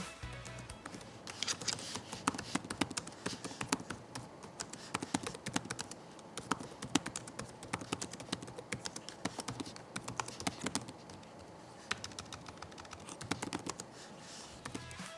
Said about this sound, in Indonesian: ini deh contoh typing test dari keyboard laptop ini